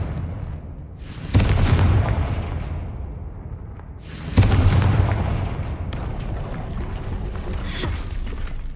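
Two heavy booming blasts go off a few seconds apart as the Confringo fire spell hits in the video game Hogwarts Legacy. Each burst is loud and rumbling, then fades into a softer crackling tail, with no voices over it.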